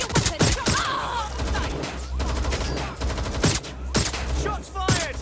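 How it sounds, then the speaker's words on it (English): Gunfire in Watch Dogs Legion: sharp, loud, close gunshots in quick irregular volleys, with a steady low hum beneath and shouting voices mixed in between the shots. "Shots fired!"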